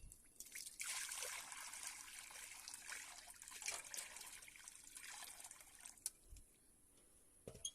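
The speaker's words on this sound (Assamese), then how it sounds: "এতিয়া মই পানী অলপ ঢালিলোঁ।" Water poured into a wok in a home kitchen before boiling shilikha fruit: a soft, steady trickle runs through most of the clip, faint and close, with no talking.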